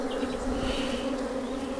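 A dense, steady drone of many honeybees buzzing together at an open hive, close and continuous.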